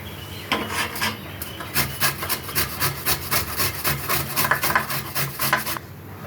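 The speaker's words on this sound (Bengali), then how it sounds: "আমি আমটা গ্রেট করে নিচ্ছি" Raw mango rubbed against a grater in a home kitchen, making a steady series of close, rhythmic rasping strokes with short scraping bursts and no one talking.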